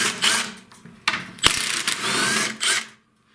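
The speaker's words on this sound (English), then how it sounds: "you'll need a 1/4 inch nut driver to do this, or a Phillips screwdriver" A quarter-inch nut driver turns screws out of the engine shroud of a seized Tecumseh snowblower engine. Close ratcheting and scraping bursts come in uneven spurts, with a sharp metallic click in the middle, and no one speaks.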